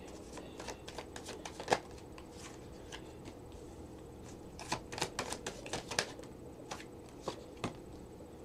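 Tarot cards being shuffled and handled, with soft papery riffles and sharp slaps of cards laid down at irregular intervals, close and quiet with no talking.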